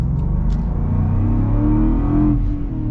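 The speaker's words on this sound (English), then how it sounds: "This V8, yeah, it's a fun sound, that is for sure." A 2023 Land Rover Defender V8 engine holds a steady, loud, deep rumble that rises as it revs up, carrying on throughout with no talking over it.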